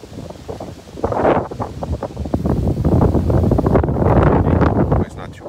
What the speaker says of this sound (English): And today, super windy.